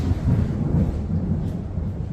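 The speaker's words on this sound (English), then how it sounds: "we're getting a thunderstorm, guys." Low, heavy rumble of thunder from a thunderstorm, rolling steadily for a couple of seconds at moderate loudness, heard from inside a barn with no talking.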